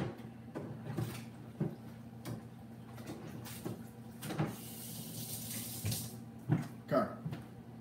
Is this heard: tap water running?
yes